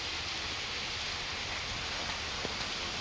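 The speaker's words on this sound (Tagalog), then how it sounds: "Napakalakas ng ulan." Heavy rain pouring down outside a house, a dense, steady hiss of falling water with a few faint drips and knocks, moderately quiet and continuous, with no voices.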